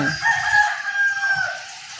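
A rooster crows in a long, drawn-out call, fairly close, with faint clucking from other chickens beneath it.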